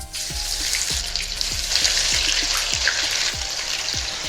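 Fresh homemade ginger-garlic paste frying in oil for mutton pickle, a bright, steady crackling sizzle with a run of soft low ticks like bubbles popping, close and alone.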